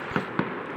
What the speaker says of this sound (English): we didn't expect to be this close to fireworks